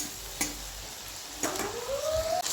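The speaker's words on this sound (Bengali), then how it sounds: "হালকা যেহেতু ভাজা ভাজা হয়ে এসেছে আমার এই বেগুন আর আলুটা" Eggplant and potato fry in a hot pan with a steady sizzle, broken by a few sharp scrapes and stirs of a spatula, close and fairly loud with no voices.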